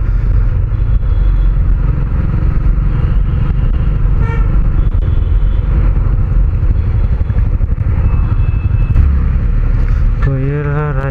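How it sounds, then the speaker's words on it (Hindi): Busy morning road traffic in Tezpur, Assam: a steady loud rumble of engines close by, with short car horn toots sounding now and then. "तो अभी मॉर्निंग टाइम है, तो इसलिए बहुत सारा ट्रैफिक लगा है।"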